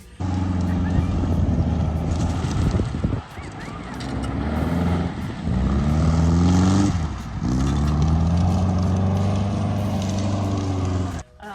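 A rough project car with a rotted-away windshield is driven hard. The engine note is close and loud, climbing in pitch through the gears and dropping abruptly at each shift, with brief lulls between pulls.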